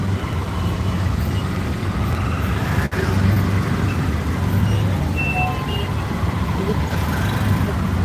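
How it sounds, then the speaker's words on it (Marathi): Heavy festival-day road traffic heard from inside a moving vehicle: a continuous low rumble of engines and tyres, with one brief sharp click partway through. "ट्रॅफिक लागले आम्हाला जायला बरं का खूप ट्रॅफिक आहे आज रक्षाबंधन असल्यामुळं"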